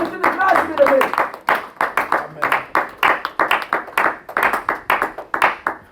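A church congregation claps in steady rhythmic unison to acclaim the Lord, loud and sustained throughout, with a preacher's voice speaking over the beat.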